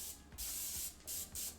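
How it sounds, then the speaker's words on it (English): Three quick bursts of cooking spray hit a baking pan, sharp, close hisses with brief gaps between them and faint background noise underneath. "spray the pan"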